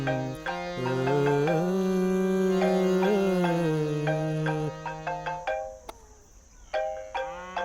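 A mobile phone ringtone plays a bright, melodic tune for several seconds, loud and alone, then breaks into shorter repeated tones as the ringing continues.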